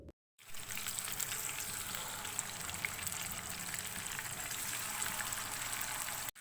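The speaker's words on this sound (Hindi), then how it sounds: "ऑयल गर्म हो गया, अब हम इसके अंदर फ़िश ऐड करेंगे।" Marinated fish shallow-frying in hot oil in a frying pan on a stove, a continuous close crackling sizzle with dense pops, steady after a brief silent start.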